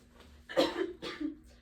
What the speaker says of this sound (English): I've had this cough for about 3 weeks.